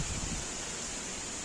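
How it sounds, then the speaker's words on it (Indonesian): Strong wind blows outdoors, heard as a steady, dense rushing and buffeting roar that fills the whole moment without pause or voices. "angin kencang."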